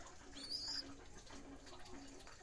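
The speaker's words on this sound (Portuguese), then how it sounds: "esse pombo nós apelidamos de lagarto" Pigeon in a breeding loft giving a short cooing call over a faint background hiss and low hum, fairly quiet and close.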